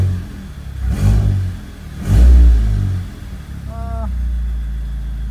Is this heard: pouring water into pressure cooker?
no